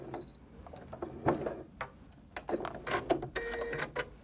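A sewing machine's automatic thread cutter working during a patchwork quilting job, a string of quick mechanical clicks and clacks, close and moderately loud, with short pauses between them.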